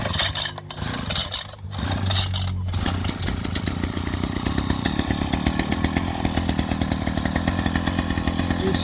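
A gasoline demolition jackhammer's engine catches after a recoil pull, with brief pull-start rasps giving way to a loud, steady, buzzing idle with a rapid even pulse, close up.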